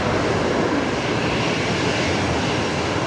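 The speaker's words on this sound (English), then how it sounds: "The Singapore A380 just gone short final now for runway" A Singapore Airlines Airbus A380 on short final approach to runway 19 right at Brisbane Airport, heard as a steady, loud, broadband jet roar that holds throughout without a break.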